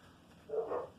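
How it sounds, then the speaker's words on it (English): Dogs bark in one brief burst in the middle of an otherwise quiet indoor background, sounding somewhat distant and muffled. "Sorry about the dogs going off."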